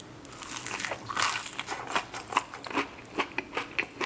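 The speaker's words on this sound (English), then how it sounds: "let's try their boneless wings. soy garlic boneless wings." Soy garlic boneless chicken wings bitten and chewed up close, a series of crisp crunches and crackles repeating in an uneven rhythm, louder at first and then in quicker bites.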